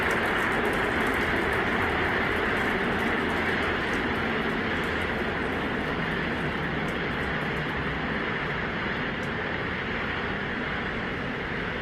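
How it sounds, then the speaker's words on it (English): Starship first stage with 33 Raptor engines firing during launch, a broad continuous roar heard from a distance, steady and unbroken for the whole stretch with no talk. "33 Raptor engines powering the first stage"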